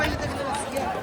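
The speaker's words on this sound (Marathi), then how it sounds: "गर्दी आहे मित्रांनो." Dense crowd chatter at the Mahakumbh Mela in Prayagraj, a steady wash of many overlapping voices close around, continuous and fairly loud through the whole moment.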